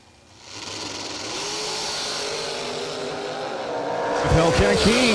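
Jeff Keene's Hellcat drag race car with a 392 engine, Moles chassis and Holley EFI, builds from quiet into a loud sustained engine roar with rising and falling revs near the end, under an announcer's voice.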